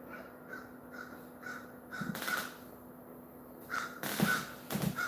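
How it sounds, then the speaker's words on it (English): Crows cawing outside a house: a string of short, evenly spaced caws from a distance, then louder, harsher calls from nearer birds breaking in toward the end. "I have crows outside my house"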